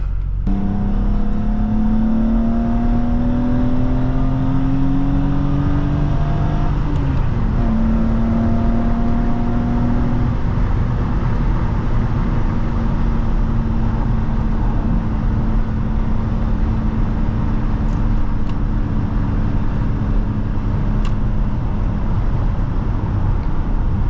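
A 1993 BMW M5 E34 engine under way on the road, a continuous loud drone with rising and falling engine pitch through gear changes, mixed with steady road and wind noise.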